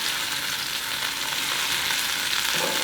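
Pea sprouts sizzle and fry in a pan while being stirred, a dense continuous crackle and hiss, close and steady throughout.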